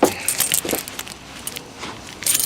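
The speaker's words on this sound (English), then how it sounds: "I can find the keys." A bunch of Land Rover Discovery car keys jangles close by in a few short metallic rattling bursts, with quieter handling between them.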